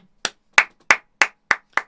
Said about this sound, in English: I'm giving you a clap